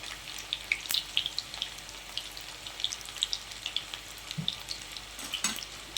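Food frying in a moderate amount of oil, pieces added a few at a time, giving a close, continuous sizzle with crisp crackles and pops scattered throughout.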